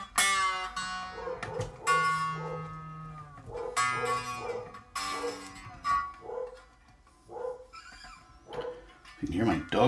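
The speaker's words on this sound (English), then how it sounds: "You can hear my dog barking." A dog barks indoors in several short bursts partly under plucked and ringing electric guitar strings on a Gibson Les Paul Studio being adjusted at the nut, with someone talking in between.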